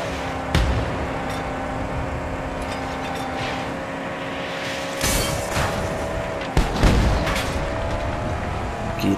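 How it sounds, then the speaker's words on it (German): Heavy cannon blasts from the post-apocalyptic vehicle combat game Mad Max ring out over steady engine drone, with sharp booming hits around the midpoint and again near the end. "Da kommen die wirklich an mit diesen Kanonen hier, oder was?"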